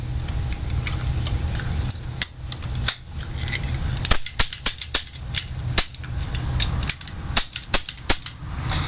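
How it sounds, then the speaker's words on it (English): A toy cap gun fires blank shots in a quick, uneven burst of sharp snaps, with a few softer clicks and mechanical ticks from the action between them. No voices. "do a little blank shot, some blank shots here"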